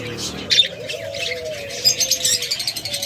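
Rainbow lovebirds, a pair kept for sale, give sharp chirps and squeaky calls close by, with a faint pigeon-like coo and other caged birds chattering in the background.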